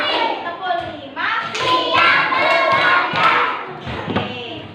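A group of children in a classroom clap together in a rhythmic cheer pattern, with dense bursts of claps mixed with voices calling out throughout.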